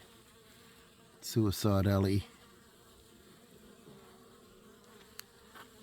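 Bees hum faintly and steadily around a hive in fall while a voice speaks briefly and loudly near the start.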